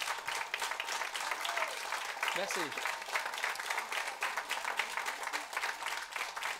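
Studio audience applauding in a large radio studio after a singer's tribute, continuous crowd clapping with a short spoken word of thanks heard over it partway through.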